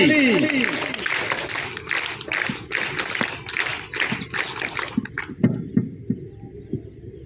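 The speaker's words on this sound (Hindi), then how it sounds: "चलो वीरांगना ताली" A group claps together at the closing ceremony of a girls' training camp, with sharp, repeated handclaps and voices heard around them.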